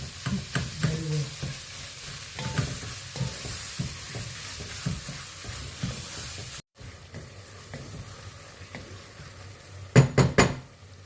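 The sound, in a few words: minced meat frying and being stirred in a pot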